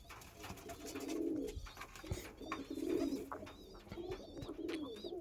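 Andhra Lal Sira pigeons coo in repeated soft, rolling phrases, several birds close together in a loft, alone with no talk.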